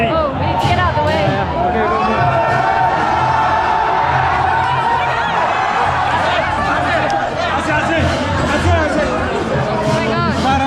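A dense, loud crowd packs a street festival in Nepal, with constant close chatter, overlapping voices and occasional laughs and shouts forming an unbroken wall of babble.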